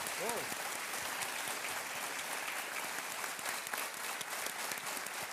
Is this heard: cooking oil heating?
no